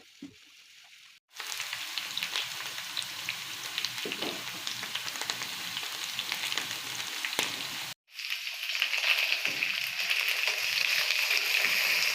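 Potatoes frying in oil in a pan give a steady, dense sizzle and crackle, close and loud, broken by two short silences.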